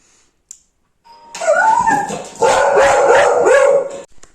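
A dog barks and whines at home as a parcel arrives, starting with a single short yip, then a loud, close run of howling barks and whimpers lasting several seconds.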